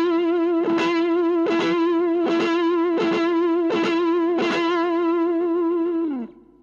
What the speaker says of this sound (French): si on fait un vibré avec le troisième doigt, on va tendance à grouper les doigts